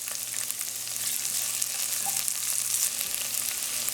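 Onions, peppers and pimentos fry in hot coconut oil in a pot, a continuous close sizzle with a low steady hum underneath.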